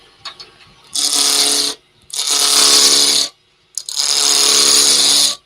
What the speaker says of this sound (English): the tool I'm using is my spindle roughing gouge, and I'm just going to get it